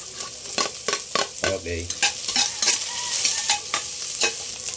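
Onions being sautéed in a pan for catfish cooked in coconut milk with annatto, with repeated stirring scrapes over a steady sizzle at close range and a brief spoken word.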